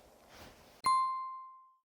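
A single bright ding-dong-dang correct-answer chime rings out after a faint murmur, striking sharply and then sustaining a clear bell-like tone that fades smoothly over about a second.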